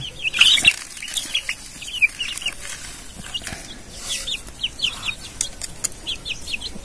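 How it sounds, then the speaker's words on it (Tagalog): A flock of hungry young chicks, shut in since morning so they could not forage, cheeps constantly in thin, high peeps that overlap close by, with occasional soft clucks and wing flutters and no talking. "Ito na yung ating mga sisiw, mga sumanwa."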